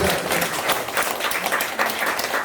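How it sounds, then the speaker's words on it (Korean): A church congregation applauds during a Korean sermon, a dense, steady patter of many hands clapping at close range that holds for the whole stretch without pause. "박수 하세요"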